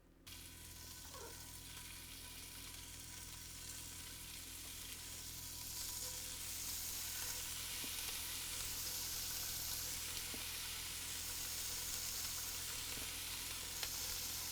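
Fish searing in hot oil in a pan gives a steady, close, crackling sizzle that swells a little louder after a few seconds and then holds, with no voices.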